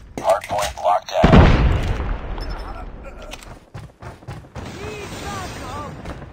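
Short bursts of PP19 Bizon submachine gun fire ring out in a Call of Duty match, followed by a heavy boom, with game voices and tones continuing faintly afterward.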